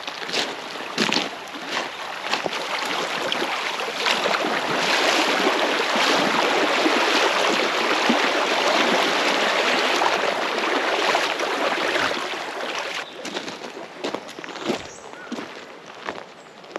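Someone wading across a creek in boots: flowing water rushes continuously, with sloshing splashes and uneven footsteps through the water, loud and close, easing off toward the end.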